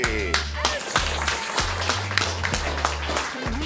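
An audience at a school talent show applauds a band, with steady clapping throughout under a background of music and voices.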